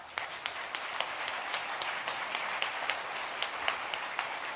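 An audience applauds at a tribute dinner honoring Paul Torrens, MD: steady, moderately loud clapping from a crowd throughout, with a few sharper individual claps standing out.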